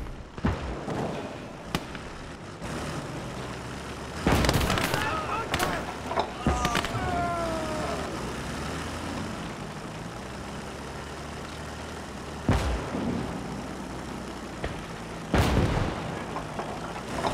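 Mortar and artillery blasts in the World War II strategy game Gates of Hell, several loud booms spread through the stretch with a rumbling battlefield backdrop and engine noise, plus a short whistling streak.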